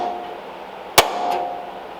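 A single sharp metallic hammer strike on a punch or chisel driven into a rare Columbia two-speed bicycle rear hub part, followed by a fainter ringing tap, in a quiet workshop.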